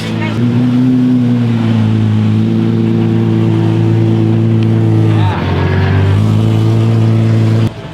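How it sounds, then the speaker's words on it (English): Loud Apollo sports car engine roaring and revving at a rally gathering, a deep sustained harmonic drone that dips briefly mid-way then surges again; people talk underneath. "We were just very rudely interrupted by an Apollo."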